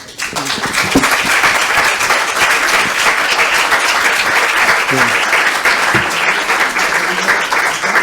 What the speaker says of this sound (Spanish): Me está aplaudiendo hasta el decano